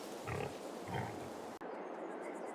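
Pigs in Farming Simulator 22 give two soft, low grunts close by over a steady farmyard ambience, which cuts out abruptly partway through.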